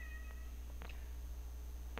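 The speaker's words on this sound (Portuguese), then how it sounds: "A minha gatinha está miando aqui." A cat meows indoors, a few short high cries spread across the moment over a steady low room hum, fairly close but not loud.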